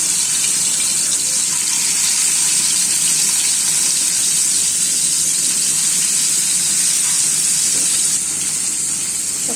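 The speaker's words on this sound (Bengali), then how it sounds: "মাছটা দিয়ে দিব। তেল গরম হয়ে গেছে।" Fish, marinated ahead of time, sizzles in hot white cooking oil in a pan, a loud steady hiss and crackle that never lets up.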